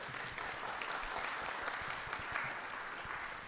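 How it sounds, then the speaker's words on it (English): Audience at a panel discussion applauding steadily, a dense even wash of clapping hands that holds at constant level throughout. "Let's give them a round of applause."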